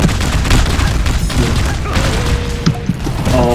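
Firework explosion in a video game: a dense, loud boom and crackling blast filling the mix, with busy game effects and rumbling layered throughout.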